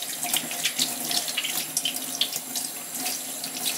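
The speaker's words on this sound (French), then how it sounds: "Bien entendu toujours les rincer la tête en bas" Water running from a tap into a sink while makeup brushes are rinsed head down, a steady close splashing stream with irregular spatters as the bristles move under the flow, no voices.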